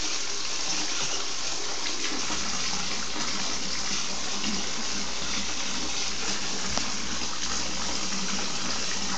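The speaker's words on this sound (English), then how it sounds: "Are you filling it up? Fill it up." Water gushing steadily from a tap into a container as it fills, a loud, close, unbroken rushing stream throughout.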